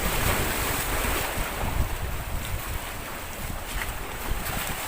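A small boat out at sea, with steady rushing waves and wind buffeting the microphone throughout, a continuous loud wash with no voices.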